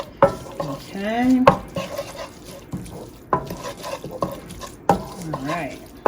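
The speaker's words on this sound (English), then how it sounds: "we're just going to dump all that in and give it a stir" Stuffing mixture with crushed Maggi being stirred in a pot, with scraping and clinking strokes and a light sizzle, heard under a nearby voice that speaks throughout.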